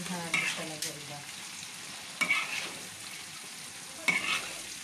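Ginisang sayote, sautéed chayote, being stirred in a pan: three distinct scraping strokes, evenly spaced, cut through a soft, steady sizzle, close and moderately quiet.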